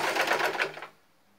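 A sewing machine runs in a steady burst of stitching along fabric for a tear-drop stitching pattern, close and fairly loud, then stops after about a second into near silence.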